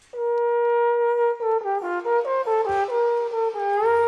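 A sustained trombone note from the Trombone Champ VR game swells in, then slides into a sequence of short gliding notes, clear and up close with no backing.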